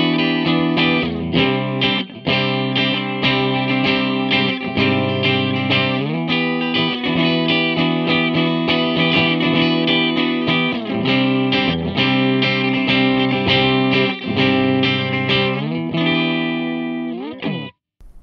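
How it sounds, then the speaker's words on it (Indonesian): An electric guitar plays through a Valeton Rushead Max mini amp in clean mode, sounding loud sustained chords one after another in a steady rhythm before stopping abruptly at the end. "langsung aja kita coba di sini mode clean-nya."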